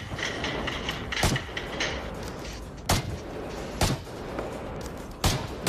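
Gunfire in a virtual reality multiplayer shooter, with four sharp, loud shots spaced a second or two apart over a constant background of rumbling game noise.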